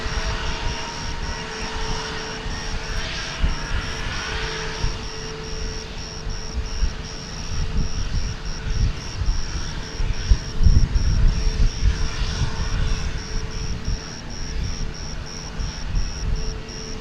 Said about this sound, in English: Airbus A320neo. Takeoff on G-Gon, American 2081.